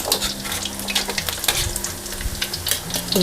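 Pork neck and garlic frying in oil crackle and sizzle loudly and continuously, with frequent sharp pops and utensil scrapes and clinks in the pan.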